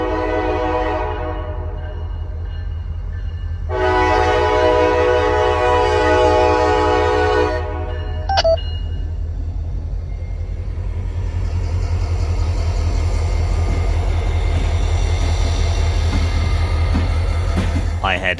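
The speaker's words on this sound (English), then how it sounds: "Local train A710 was in the process of running around their train at South End Tucker, preparing to work on the Brill spur track" CSX local train A710 runs around its train at South End Tucker, its horn sounding two long blasts over the steady, heavy rumble of the idling and moving locomotive.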